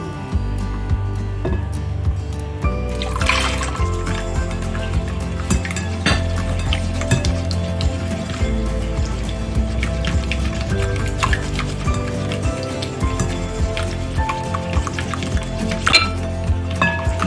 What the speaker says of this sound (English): the next thing I'm going to be adding is my milk